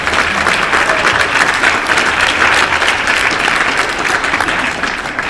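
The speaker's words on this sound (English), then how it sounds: "We'll give that a massive round of applause" Sustained, dense applause from a live podcast audience at a marathon event on the Gold Coast: loud, steady clapping from a large crowd close to the mics, filling the whole stretch without a break.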